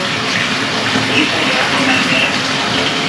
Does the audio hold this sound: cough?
no